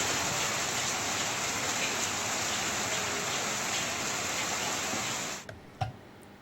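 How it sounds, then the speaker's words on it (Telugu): Heavy rain during a downpour in Telangana pours down in a dense, steady roar that cuts off abruptly near the end, followed by a few faint knocks. "తెలంగాణలో మరోసారి భారీ వర్షాలు కురుస్తున్నాయి"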